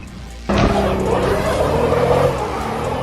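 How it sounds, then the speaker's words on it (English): A Subaru Impreza stuck in snow, engine roaring loudly as its all-wheel-drive tires spin, a sudden burst of revving and tire whine that holds steady for a couple of seconds and then eases off. "with its tires spinning and engine roaring"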